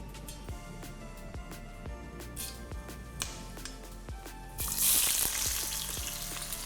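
Black pepper, sliced onion and green chilli frying in ghee, a steady close sizzle with light clinks of stirring and a brief louder hiss as ingredients are added.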